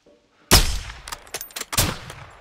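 Sniper rifle shots in Call of Duty: Modern Warfare II (2022) during a sniper mission: one loud, sharp crack with a reverberating tail, followed by several quieter distant shots and impacts.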